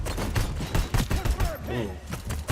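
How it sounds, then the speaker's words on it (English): An assault rifle fires in a video game: rapid bursts of sharp, loud shots in quick succession, close up, with a voice speaking briefly between the bursts. "we'll pick up this assault rifle again"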